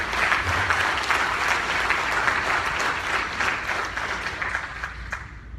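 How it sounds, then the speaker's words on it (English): Sustained applause from an audience at a dinner event, a dense and steady wash of many hands clapping that fades slightly toward the end. "So please give them a round of applause since we are live."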